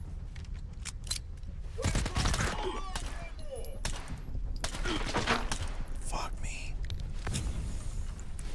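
Enemy gunfire rattles in bursts and scattered shots in a video game firing-squad ambush, sharp cracks over a steady background din with someone speaking quietly at times.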